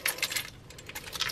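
A keychain loaded with accessories jangles in a car, giving bright metallic clinks in several quick bursts.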